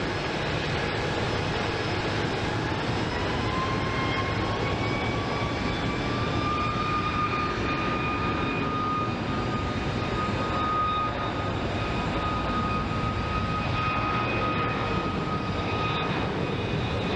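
Airliner engines at Phoenix Sky Harbor International Airport make a sustained, loud roar with a rising whine from the turbines, steady over many seconds at moderate distance, with no talking.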